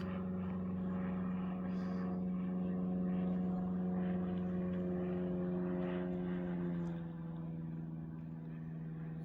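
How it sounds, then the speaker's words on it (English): A propeller airplane drones overhead, a steady loud engine hum with shifting tone that eases slightly toward the end as it passes. "Got ourselves a plane."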